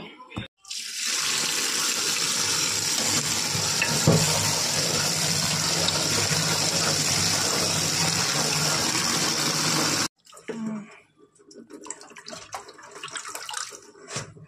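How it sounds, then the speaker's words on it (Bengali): Tap water gushes steadily for about ten seconds as Bengali green leafy vegetables (shak) are washed under it, then stops, leaving softer splashing and handling sounds. "শাকটা বাছা হয়ে গেল, এবার ধুয়ে নেব।"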